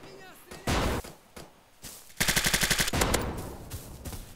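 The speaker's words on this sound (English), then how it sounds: "Suppressed guns be like." Suppressed gunfire in a browser shooter video game: a rapid burst of muffled automatic shots fires in a tight rhythm for about a second, with scattered single shots before it and a faint tail after.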